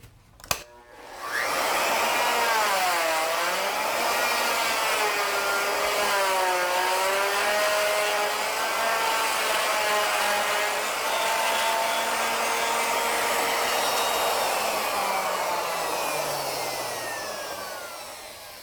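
A router cuts a second, slightly deeper pass in wood, whining loudly and continuously after a brief start-up click, its pitch wavering as the bit moves through the workpiece, then trailing down at the end.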